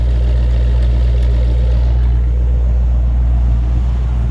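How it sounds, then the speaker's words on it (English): A Ford truck engine with a Ford transmission idles steadily, a clean, healthy, even low rumble heard close up and loud, with no talking. "Nice sounding engine, clean and healthy."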